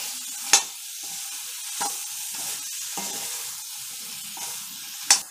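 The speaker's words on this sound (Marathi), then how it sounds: "आता हे मशरूम आणि काजू आपल्याला फोडणीमध्ये मस्तपैकी परतून घ्यायचे आहेत" Mushrooms and cashews sauté in a spiced tempering, a soft continuous sizzle broken by several sharp scrapes and clanks of a spoon stirring the pan.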